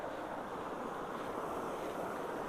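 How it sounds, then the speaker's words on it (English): Rushing floodwater swirls through a huge whirlpool beside clogged road culverts, a steady broadband roar that stays loud and unbroken from start to finish with no talk over it. "Well, that's a huge whirlpool."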